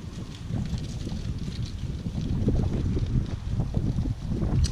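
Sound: wind blowing outdoors

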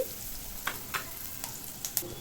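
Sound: cinnamon, peppercorns and cumin frying in oil

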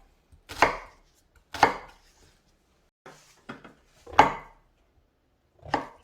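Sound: knife chopping onion on a cutting board

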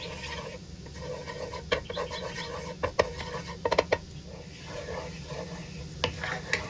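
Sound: butter melting and sizzling while stir-frying in pan

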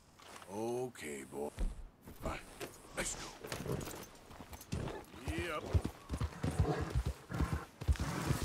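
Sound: horse hoofbeats while riding, from video game Red Dead Redemption 2

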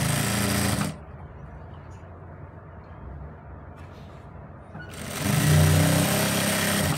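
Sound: sewing machine stitching a sleeve

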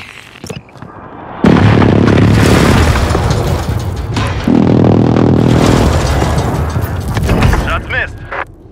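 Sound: airstrike explosions, Call of Duty Modern Warfare video game

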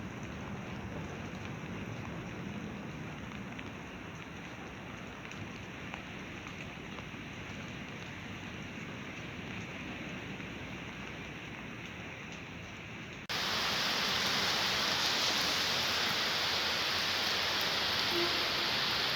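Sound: rain

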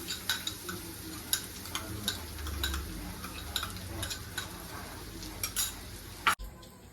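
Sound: grated fresh coconut sautéed in ghee

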